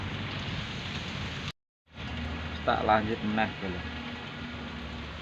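Light drizzle mixed with wind outside the front of a house, a steady soft hiss that cuts out briefly, with someone talking over it.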